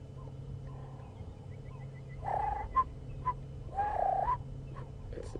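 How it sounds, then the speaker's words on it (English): A turtle dove calls during an evening safari drive, giving two short bursts of soft cooing set against a steady low hum of ambient noise and faint distant bird calls. "It's the turtle dove."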